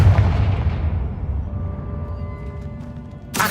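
A Confringo fire-blast spell explodes in the video game Hogwarts Legacy with a loud, booming burst that rumbles and fades over a few seconds. A sharp new burst cuts in at the very end.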